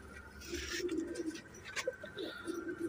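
Soft, low cooing from a pair of Teddy pigeons, a few gentle rolling coos close by over faint background noise, with no talking.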